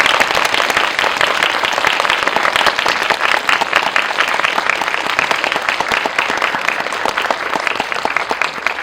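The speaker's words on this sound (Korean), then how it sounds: "박수로 맞이해 주세요." A theatre audience applauds loudly and steadily, welcoming a film director and voice actors to the stage at a Korean film screening Q&A, the dense clapping sustained and unbroken throughout.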